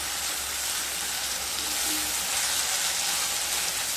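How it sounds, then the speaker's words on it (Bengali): Tomato paste frying with ginger, garlic and onion for dhaniya katla makes a dense, even sizzle like rain on a surface, steady and moderately loud without a break. "টমেটো দিয়ে আবারও খুব ভালো মতো কষিয়ে নেব।"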